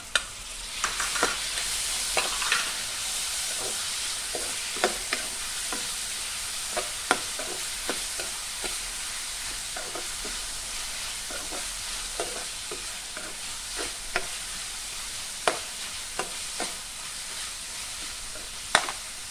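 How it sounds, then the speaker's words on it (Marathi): Finely chopped tomato fries in a pan for a village-style dried Bombay duck dish. A steady sizzle runs throughout, broken by frequent scraping stirs, close and clear with no talking. "आता आपण ह्याच्यामध्ये बारीक चिरलेला टोमॅटो घालूया।"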